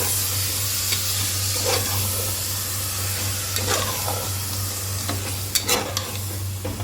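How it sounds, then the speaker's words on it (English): Curd is stirred into a sizzling chicken biryani mixture in a pressure cooker. A constant frying hiss runs throughout, with a low hum underneath and several distinct scrapes of a spoon against the pot, the sharpest near the end. "And then I'll give it all a nice mix."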